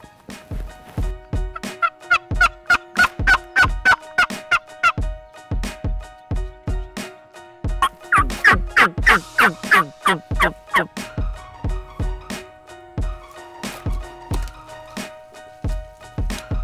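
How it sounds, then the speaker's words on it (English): Loud, close wild Rio Grande turkey gobbles ring out in repeated bursts in Texas, several birds calling over one another in rolling, rapid series. "They're gobbling on their own."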